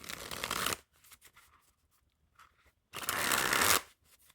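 Two quick bursts of cards being riffle-shuffled up close, a crisp rapid fluttering, separated by soft handling taps in a quiet room.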